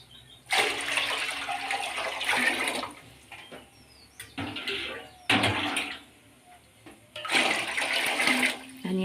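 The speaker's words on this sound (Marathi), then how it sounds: "इथे मोठं गंज मी ठेवून घेतलेलं आहे, त्याच्यामध्ये पाणी घालत आहे।" Water pours in several separate bursts into a large metal pot, each a loud, splashing gush of a few seconds with quiet gaps between them, close up and with no talking.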